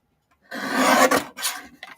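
Paper being trimmed down for a handmade card, heard as a close, dry rasping cut lasting about half a second, followed by two shorter scraping strokes, with no talking.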